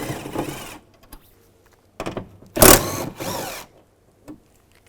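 A power tool with a 10mm socket spins off nuts on a Cadillac DTS car door, giving short close whirring bursts separated by quiet gaps, one burst louder and harsher than the rest.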